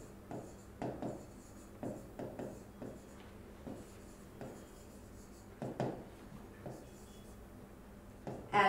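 Pen or marker writing on a board while working a chemistry problem, a series of short scratchy strokes in irregular bursts, fairly close and quiet, with no talking.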